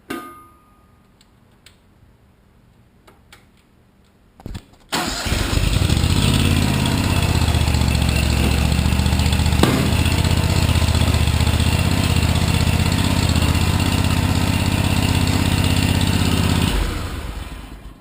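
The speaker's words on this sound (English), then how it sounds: "So I'm going to fire up the tractor, make sure everything works" After a few faint clicks and handling noises, a Steiner 430 tractor engine cranks and catches, then runs at a steady, loud, close idle for about twelve seconds before the sound trails off.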